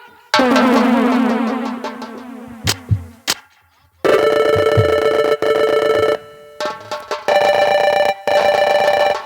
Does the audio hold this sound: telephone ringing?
yes